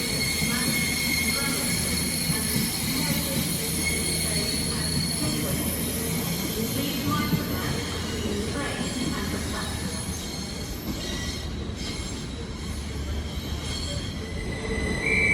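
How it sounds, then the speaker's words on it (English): CrossCountry Class 220 diesel unit 220-013 pulls out of Newcastle station with a steady engine drone and squealing wheels, with rail clatter under a station ambience and faint voices. "Departing out now is the delayed 1639 cross-country service from Edinburgh to Bristol Temple Meads."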